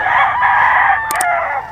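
A young rooster, a stag, gives a short, strained crow lasting under two seconds, loud and close, with a couple of faint clicks near the end.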